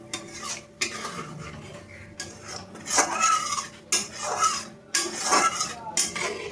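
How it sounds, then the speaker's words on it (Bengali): A metal spoon stirs spiced egg curry gravy in a pot after water is added, giving repeated clinks and scrapes against the metal in bursts, with a faint simmering hiss underneath. "এবার আমি ভালোভাবে নাড়িয়ে নেব।"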